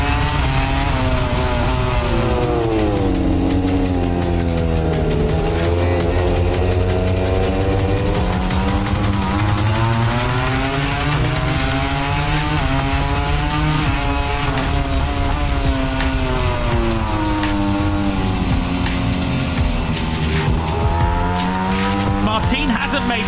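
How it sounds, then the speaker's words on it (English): At the start of a MotoGP race in Japan, a pack of motorcycles roars loud and close, engines rising and falling together through gear changes continuously, with race commentary over the top. "It's lights out and we are racing in MotoGP here in Japan."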